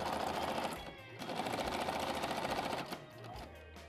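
A sewing machine stitches fabric in fast, rapid buzzing runs, with a brief pause near the middle and a slowdown toward the end, heard up close at a moderate level.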